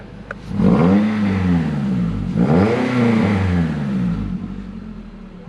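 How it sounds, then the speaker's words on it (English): A 2012 Lexus IS300 engine revs twice up close, climbing and falling in pitch each time, and idles roughly in between. "Sounds ugly. Here, I'll rev it."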